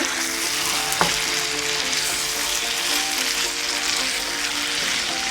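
Beef pieces are stirred while frying in spiced oil for a spicy red beef curry with beetroot, giving a dense close-up sizzle with scraping stir movements and one sharp clink near the start.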